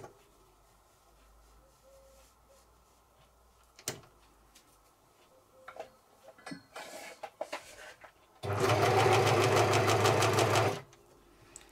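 An overlocker serger stitches light poplin fabric into makeup remover pads. A loud, steady mechanical whirring runs for a few seconds near the end, after scattered quieter handling clicks.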